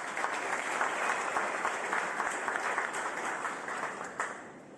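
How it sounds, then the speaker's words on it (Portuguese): A church congregation gives a round of applause during a sermon, dense sustained clapping from many hands filling the room evenly for about five seconds before easing slightly at the end. "Alguém pode bater uma salva de palmas para esse texto?"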